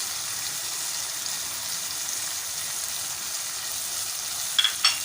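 Coriander, salt, chili, turmeric and amchur fry in a pan for a chickpea curry, a steady, fairly quiet hissing sizzle with a couple of brief clinks near the end.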